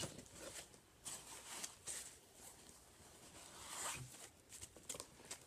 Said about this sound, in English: we have the zipper here, outside, and opens up